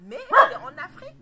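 A chained dog gives a short, close bark mixed with yelping tones, overlapping a person speaking.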